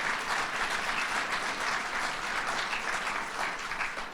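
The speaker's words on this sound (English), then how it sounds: "Mayor Byron Brown, let's give him a round of applause." A crowd at the University at Buffalo Jacobs building topping-off event gives Mayor Byron Brown a round of applause, a full, steady roar of many hands clapping together, loud and sustained before tapering slightly at the end.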